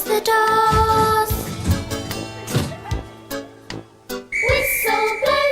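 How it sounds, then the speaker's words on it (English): A loud, sustained steam train whistle sounds over busy music, with sharp percussive hits and a second whistle blast near the end. "Whistle blows and the engine roars."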